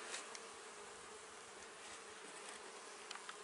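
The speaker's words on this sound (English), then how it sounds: "These bees have been great" Honey bees buzz steadily around an open hive, forming a dense, close, continuous drone with small flickers of individual insects passing near.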